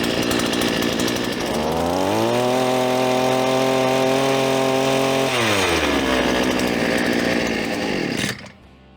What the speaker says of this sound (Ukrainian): Відчиняємо заслонку та ще раз заводимо. Все, наш прилад працює.